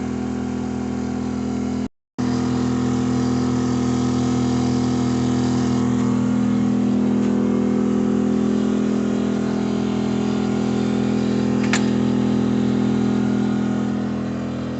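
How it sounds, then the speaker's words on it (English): A portable generator hums steadily, loud and close, with a fan blowing air across it beside a van, the drone continuous apart from a brief dropout near the start. "It's going to show you how the fan is blowing on the generator."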